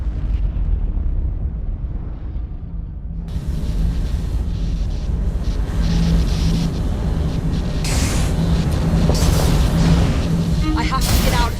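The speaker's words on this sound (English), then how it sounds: "What was that explosion?" A powerful explosion in the Assassin's Creed Syndicate video game, where a Piece of Eden detonates and destroys a lab: a sustained, roaring rumble with bursts of crackling debris, loud and continuous.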